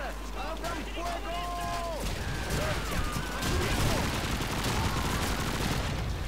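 Weapon fire in Call of Duty 2 on PC, rapid repeated shots in dense bursts with explosions mixed in, a continuous battle din over the whole stretch after a brief opening of other sounds.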